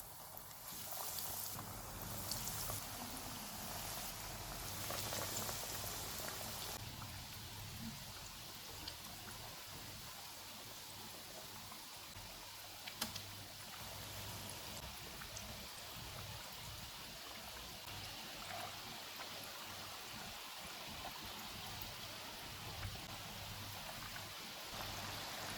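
Chicken snacks deep-fry in hot oil over a medium flame, a soft, even, rain-like sizzle that runs steadily throughout, fairly faint and without any talking.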